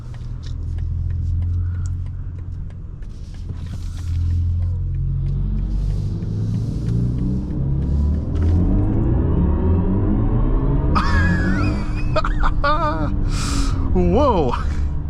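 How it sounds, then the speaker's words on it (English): A 2024 BMW i4 M50 electric car pulls hard from 0 to 60, its steady low drivetrain rumble and road noise rising in pitch over about fifteen seconds, with people talking over it near the end. "let's get our RaceBox ready and see what this car can do 0 to 60"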